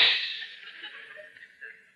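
A voiced mouth sound imitating a dash in spoken phonetic punctuation for radio, a hissy sibilant burst that trails off over about two seconds, close and alone.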